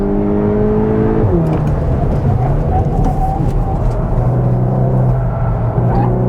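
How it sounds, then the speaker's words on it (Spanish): A 2023 Volkswagen T-Roc R compact SUV accelerates at full throttle on the road, its engine note climbing steadily through a gear change, with someone talking over the continuous engine and road noise. "Gas, ya estoy fondo, ¿eh?"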